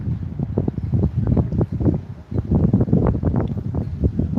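Gusty wind buffets the microphone outdoors at the Erzurumspor facilities in Erzurum, Turkey, in irregular low rumbling bursts, loud and continuous with no voices.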